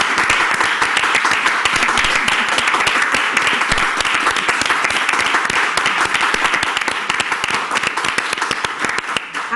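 Dense, loud audience applause, many hands clapping in a continuous, even roar that holds steady for nearly ten seconds with no break.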